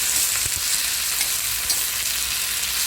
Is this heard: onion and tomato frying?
yes